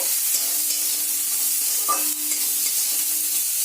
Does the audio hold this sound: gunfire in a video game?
no